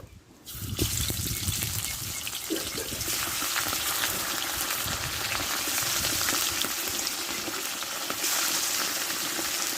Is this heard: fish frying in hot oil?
yes